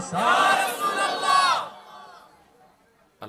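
A crowd at a religious gathering roars a loud chanted response in unison, a strong burst of many voices lasting about a second and a half before fading into quieter murmurs, with a sharp sound at the very end.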